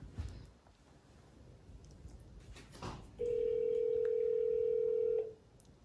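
A phone rings out over a speakerphone, a single steady electronic tone holding for about two seconds after some quiet handling noise.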